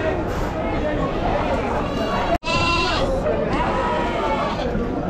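Goats bleating amid the busy din of a large goat and sheep market in Chakan, Maharashtra, with dense crowd noise and talking voices throughout and a brief cut midway.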